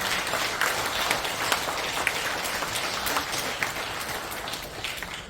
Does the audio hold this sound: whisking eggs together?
no